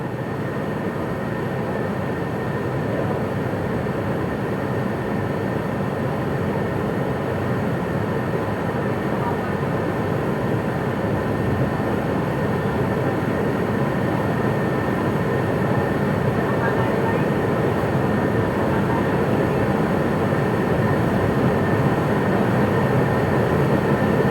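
A KRL commuter train between Solo and Yogyakarta rumbles with a steady, loud onboard drone and a constant high whine, while a recorded station announcement plays over the noise.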